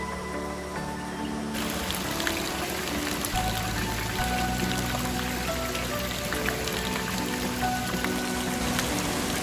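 Small streams of water flow beside a green path near Tibumana waterfall in Bali, a steady close rushing and splashing that runs throughout, softly layered with background music.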